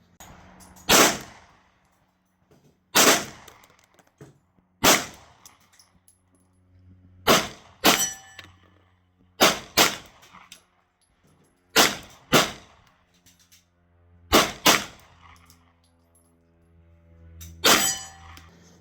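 Sig P226 pistol firing single shots at a range, about ten sharp loud reports spaced a second or two apart, some in quick pairs, each with a short ringing tail and no talking.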